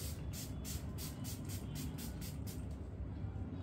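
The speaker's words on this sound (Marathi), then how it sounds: "फेसेस कॅनडाचा हा अल्टिमेट प्रो फिक्सर आहे. सो तुम्ही तो मेकअप झाल्यावर चेहऱ्यावर मारायचा. स्प्रे आहे जस्ट सिंपल." A Faces Canada Ultimate Pro makeup fixer spray is pumped in a rapid, even series of about a dozen short, soft misting hisses, quiet and close, over a low background rumble.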